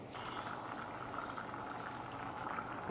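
Asparagus and Asiago risotto simmering in a pot: a soft, continuous bubbling and crackling, steady and close but quiet, with no talk.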